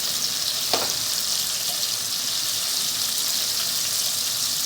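Spice paste for masala bhindi, an okra dish, frying steadily in a pan, a constant bright sizzle throughout with one brief scrape near the start.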